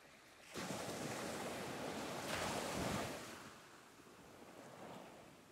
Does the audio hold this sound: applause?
no